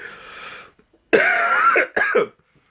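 Close coughing: a rough hacking cough, then two harsh, raspy coughs in quick succession, each ending abruptly in silence.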